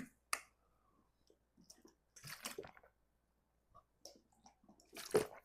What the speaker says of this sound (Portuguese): Vou pegar aqui e dar mais duas goladas.